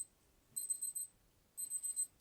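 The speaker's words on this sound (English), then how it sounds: "And there's the timer, okay?" Exercise timer alarm going off in two short bursts of high electronic beeping, each about half a second long, separated by a brief pause, fairly faint in a quiet room.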